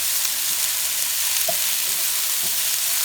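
Fried rice with Canadian bacon and pineapple sizzling in a hot pan, a steady bright crackling hiss with occasional soft stirring scrapes, close and continuous.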